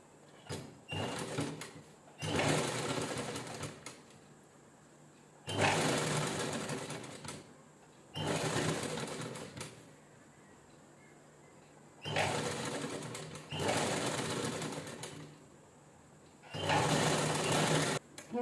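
An electric sewing machine stitches a sari-fabric jeans-style top, running in five separate bursts of steady whirring with quiet pauses between them, close and fairly loud.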